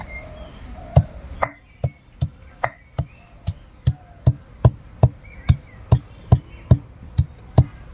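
Soaked dried lote fish being pounded, with steady, evenly spaced heavy thuds, about two per second, close and loud with little else around them.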